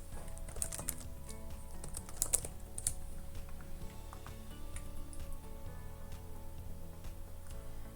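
Fingers type a layout name on a computer keyboard, producing a close, quick and irregular run of light key clicks with a few sharper taps, heard alone in a quiet room.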